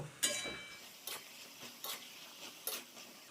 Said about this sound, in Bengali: এবার এটা আমি ভালো করে নেড়ে দেব।